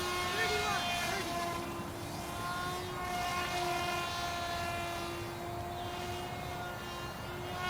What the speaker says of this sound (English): Now let's cut the throttle and glide the plane down.